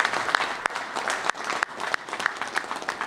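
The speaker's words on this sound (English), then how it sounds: "So how about a big round of applause for law enforcement and security?" A crowd claps in a round of applause during a New Year's Eve ball drop event, sharp individual claps standing out from a steady wash of clapping at moderate distance.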